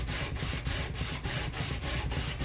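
Steady back-and-forth sanding strokes with 80 grit sandpaper on a knife blade bevel, about eight rhythmic rasping passes, close and fairly loud with no talking.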